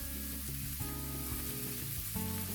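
Shredded cabbage fries in oil in a pan with a steady, close hiss and crackle, joined by a faint backing tone and no voices.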